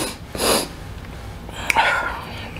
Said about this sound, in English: So excuse me if I'm sniffing.